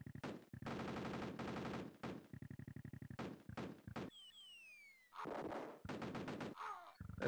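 Rapid machine-gun fire from soldiers in the retro video game Cannon Fodder, in repeated dense bursts with short gaps, plus a whistling descending effect and a thudding impact near the end.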